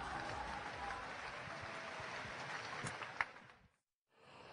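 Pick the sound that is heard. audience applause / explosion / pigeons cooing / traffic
audience applause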